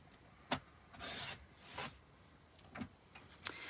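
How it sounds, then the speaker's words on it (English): A 5 1/4 inch paper square is sliced diagonally in a trimmer, giving several short, close scraping swipes of the blade, separated by quiet gaps. "I'm going to place it in my trimmer, and I am going to cut it diagonally in one direction."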